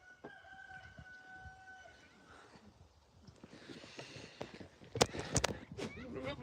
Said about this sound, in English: Got another chicken over here just saying hello.